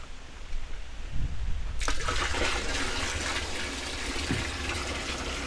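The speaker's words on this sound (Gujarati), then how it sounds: "હવે આપણે આમાં બસો લીટર જે છે એ બેરલની અંદર પાણી ઉમેરીશું" Water gushes steadily into a 200-litre barrel while a farm fertilizer brew is being mixed, starting abruptly after a quiet moment and continuing as a loud, even rushing pour.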